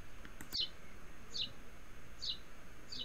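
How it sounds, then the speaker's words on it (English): Birds chirp in a small garden under grey, stormy weather, giving a few short, high, thin calls spaced about a second apart over a quiet background. "The birds are still singing though."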